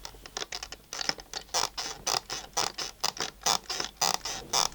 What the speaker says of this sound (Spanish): Son los contactos del conector siendo forzados.